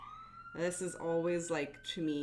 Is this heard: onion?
no